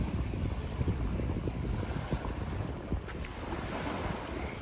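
Wind buffets the microphone at a beach while ocean waves surge and wash in the background, a constant rough roar with gusty bumps and no voices.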